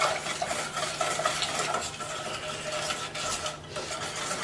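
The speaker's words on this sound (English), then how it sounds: "we're going to whisk this in" A mixture with salt being whisked in a pan over medium heat: a steady, continuous scraping and swishing that runs without pause at moderate loudness, with no talking.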